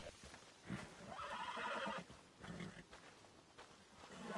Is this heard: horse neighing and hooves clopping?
yes